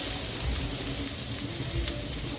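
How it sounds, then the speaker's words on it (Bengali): Pieces of kudri (ivy gourd) fry in oil in a wok, giving a steady, close, crackling sizzle with occasional louder pops and no voices. "যেগুলো একটা সাইড ভাজা হয়নি সেগুলো উল্টে দিচ্ছি ভেজে নেওয়ার জন্য"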